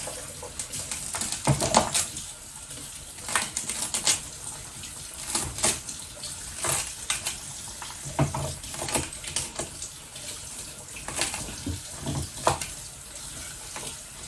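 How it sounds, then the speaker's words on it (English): A knife roughly chops freshly harvested celery on a board in a home kitchen, irregular crisp taps and thuds in quick bursts, fairly faint and close, with no talking. "So I'm just chopping them rough chop because they will shrink."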